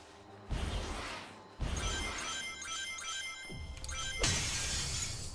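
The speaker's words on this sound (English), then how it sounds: "Yeah, punch that glass, Sonic!" Glass shattering as Sonic punches through it in the video game Sonic Frontiers, several loud crashing bursts in quick succession with bright tinkling shards and game effects layered over them, no voices.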